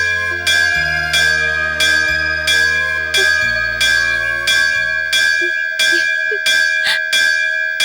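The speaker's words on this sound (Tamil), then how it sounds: "கோயில் மணி அடிக்குது." A temple bell rings repeatedly in a steady, regular rhythm, each loud metallic strike leaving a long shimmering ring that overlaps the next.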